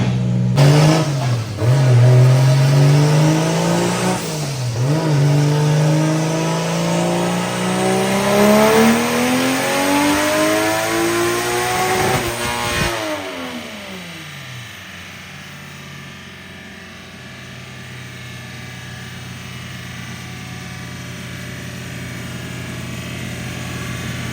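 A 1.5JZ-engined car revs hard on a dyno, rising in pitch for about thirteen seconds before lifting off abruptly. The engine then settles into a low, rumbling idle.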